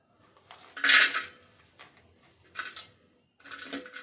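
A metal pot is set down on a stove, making three short bursts of clanking and rattling metal, loud and close, with quiet gaps between them.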